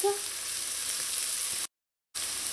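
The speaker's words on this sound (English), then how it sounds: "So it's less than a minute since my garlic has been sauteing" Garlic sautés in a hot pan, a steady hiss of sizzling oil that runs close and even, then cuts out briefly to silence before resuming.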